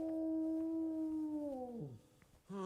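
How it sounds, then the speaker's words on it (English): A dog howls in one long, loud, wavering note that slides downward and fades, then a second howl starts up right after a brief pause, with no other sounds around it. "My dog is howling."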